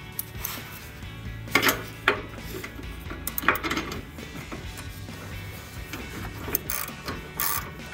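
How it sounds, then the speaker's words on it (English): A ratchet with a 21 mm socket tightens the rear bumper bolts on a 2015-2020 Ford F-150, giving quick close metallic clicking bursts with short pauses between them and a few louder clanks. "now I'll take my 21 millimeter socket and go ahead and"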